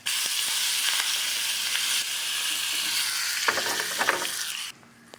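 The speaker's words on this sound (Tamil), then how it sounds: "அதில் இப்போ கடுகு தூள் பொரிஞ்சதும் கருவேப்பிலை போட வேண்டியது தான்" Curry leaves land in hot oil with popping mustard seeds and asafoetida, giving a loud, dense sizzle and hiss with scattered crackles that suddenly cuts off near the end.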